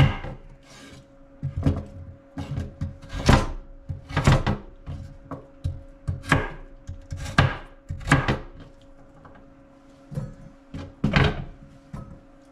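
Knife chopping food in a home kitchen, a series of sharp, uneven thuds on a cutting board in irregular bursts with brief pauses, close and clear with no speech.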